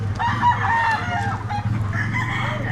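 A rooster crows nearby, loud and drawn out, followed by a shorter second call with some clucking in the background; a Gilmore Hatch gamecock.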